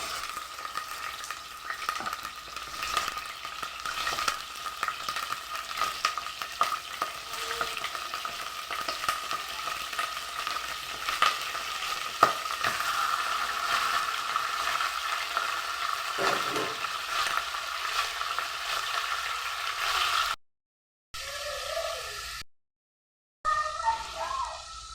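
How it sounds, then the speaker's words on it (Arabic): Chicken pieces, boiled then coated in flour and lemon, sizzle steadily in hot oil in a pot with intermittent scraping stirs, a continuous close frying hiss that drops out briefly near the end. "خلاص الفراخ اتشوحت زي ما انتوا شايفين كده"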